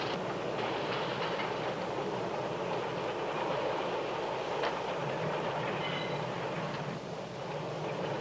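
A train rumbles steadily close by, with continuous rail clatter and a few metallic screeches, no voices.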